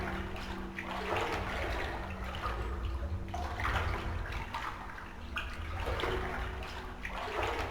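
Water sloshes and swirls continuously as a player character wades through the flooded pool room in the Backrooms game The Complex: Found Footage, with steady splashing surges rising and falling throughout.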